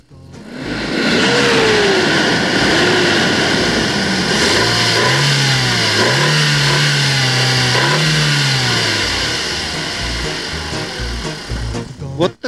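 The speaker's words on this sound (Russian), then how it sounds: "Вот такой вот двигатель." A Great Wall SUV's 2.4-litre, 105-horsepower engine revs repeatedly, its pitch climbing and falling in several loud, close bursts over a steady idle, ending with a quick clatter.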